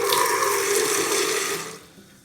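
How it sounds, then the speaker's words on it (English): A newly installed bathroom faucet runs into a sink in a steady, loud gush that trails off as the tap is shut near the end; no talking. "So we're gonna turn the faucet on."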